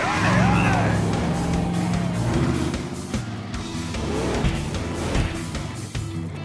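Cartoon monster trucks racing with revving engines, a continuous loud motor roar mixed with skids and voices talking over it.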